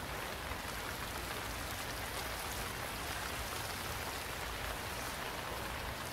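Heavy rain pours in the survival video game Stranded Deep, a loud, uniform downpour that roars on without a break.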